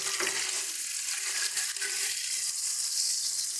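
Duck eggs frying in a pan, giving a continuous bright sizzle and crackle of hot oil that holds steady and fairly close throughout, with no talking.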